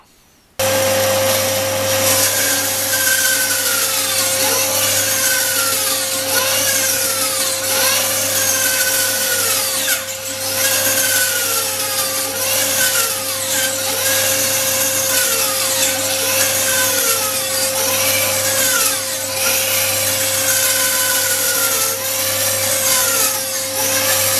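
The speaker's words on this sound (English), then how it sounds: "bandsaw." A bandsaw cuts angled pieces of timber to repair a 250-year-old roof. A loud, constant motor hum with a steady tone runs throughout, and the blade's rasping surges rise and fall as each cut bites, with no voices.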